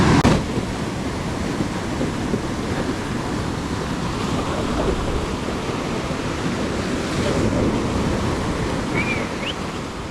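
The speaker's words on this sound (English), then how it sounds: "the waves will pick up, and as it goes out the waves generally get smaller" Ocean waves break and wash onto a beach, a continuous loud surf roar mixed with wind buffeting the microphone, with no voices.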